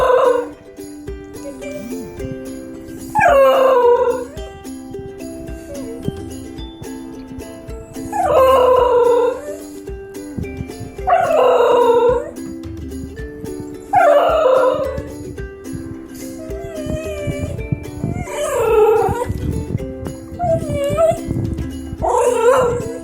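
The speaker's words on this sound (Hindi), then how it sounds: "वो कुत्ता है बेसेंजी। ये नॉर्दर्न अमेरिका में पाया जाता है और ये इस कुत्ते की खासियत है कि ये कुत्ता कभी भौंकता नहीं है।" A Basenji dog gives a string of loud, close, yodel-like howling calls instead of barking, about half a dozen wavering cries separated by short pauses, with no talking.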